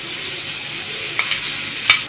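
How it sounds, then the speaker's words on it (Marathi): Hot tempering of mustard seeds and curry leaves is poured onto a mango and coconut chutney, giving a steady close hiss and sizzle with a couple of sharp crackles. No one speaks. "त्याच्यावर ही फोडणी टाकून घ्यायची."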